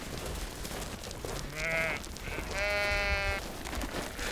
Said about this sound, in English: The farmers take feed up to the sheep when the weather's really bad.